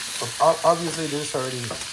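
Sausages for Mexican-style hot dogs fry in a pan, a soft steady sizzle with brief crackling bursts and stirring, close and moderately quiet.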